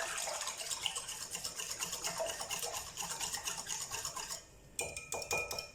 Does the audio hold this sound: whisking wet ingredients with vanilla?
yes